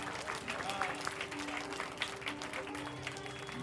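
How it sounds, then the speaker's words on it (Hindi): An audience at a school annual function claps steadily, with a dense patter of hands under a faint background tone and some voices murmuring. "ताली जरा जोर से बजाओ।"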